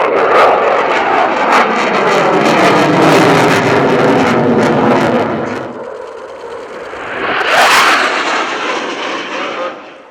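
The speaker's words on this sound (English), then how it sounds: "The exceptional PC-7 team, the official aerobatic team of the Swiss Air Force." Swiss Air Force PC-7 turboprop aerobatic aircraft roar loudly overhead at an airshow, a sustained engine drone that fades and then surges again as another aircraft passes close.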